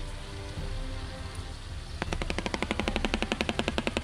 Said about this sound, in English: it's a little bit of distant gunfire